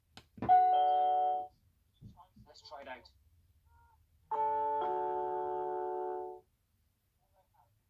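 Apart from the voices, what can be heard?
video doorbell chime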